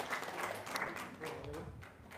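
Audience applause at a gathering: a steady patter of many hands clapping, moderately distant, with voices talking over it.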